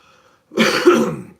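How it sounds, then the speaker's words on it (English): A single short, raspy throat clearing, close and fairly loud, after near silence. "Clear my throat and grab a drink real quick,"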